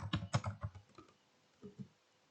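Typing on a computer keyboard while entering text into a Microsoft Excel spreadsheet, with a quick close cluster of key clicks followed by a pause and two softer taps.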